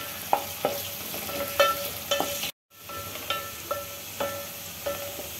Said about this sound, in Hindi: ये अनियन जब फ्राई होने लगेंगे,